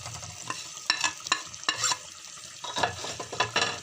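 A spoon stirs chicken nihari as salt and spices go into the hot pan, scraping in quick irregular strokes over a soft, steady sizzle of frying, close up and fairly quiet.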